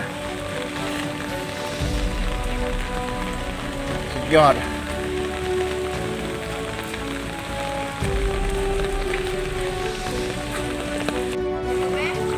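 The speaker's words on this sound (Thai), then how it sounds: "ฝนตกครับฝนตก" Steady rain falls outdoors during fishing for climbing perch, a constant patter and hiss running throughout while someone speaks and exclaims nearby.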